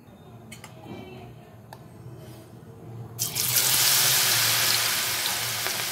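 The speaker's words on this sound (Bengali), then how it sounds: "এখন এইভাবেই চামচের সাহায্যে তুলে এটাকে আমি তেলের মধ্যে ছেড়ে দেব।" Pakora batter spooned into hot oil, a quiet sizzle with faint clicks that suddenly swells into a loud, steady bubbling hiss about halfway through, close up with no talk.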